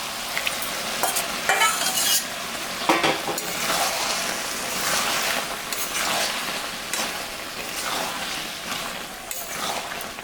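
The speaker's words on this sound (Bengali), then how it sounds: "ডালটা আমি প্রেসারে সিটি মারে রাখছিলাম, এটা এখন আমি দিয়ে দিই।" Pressure-cooked dal is poured into a pan of frying vegetables and stirred, giving a continuous close sizzle with repeated scraping strokes of a spoon against the pan, loud and steady throughout.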